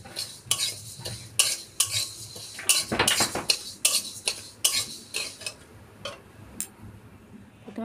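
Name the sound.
moong dal frying in a pan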